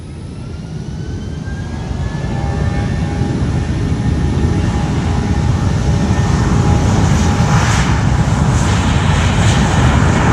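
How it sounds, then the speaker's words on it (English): JetBlue Airbus A320 in NYC Fire Department livery departing for Orlando, a loud sustained jet engine roar building over the first seconds and holding steady, broad rumbling noise with faint whining tones, no voices. "Here goes JetBlue 2134 heading to Orlando on an A320 in the NYC Fire Department livery."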